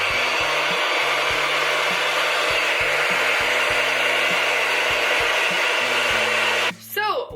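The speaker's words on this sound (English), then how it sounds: "So I'm going to turn on my blow dryer, and I'm going to blow dry these curlers." A blow dryer heats hair curlers set on a heat-resistant wig, a loud continuous close whoosh of blowing air that cuts off near the end, with a brief voice afterward.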